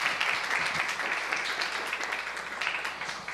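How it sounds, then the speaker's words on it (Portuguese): Audience at a student physics tournament gives steady, moderately loud applause that holds for a few seconds with no talk over it. "Uma salva de palmas para vocês"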